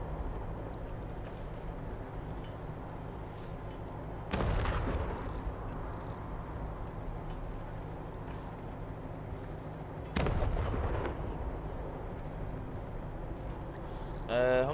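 Sniper gunfire in the video game Wasteland 3 cracks out as two loud, close single shots several seconds apart, over a low rumbling game background.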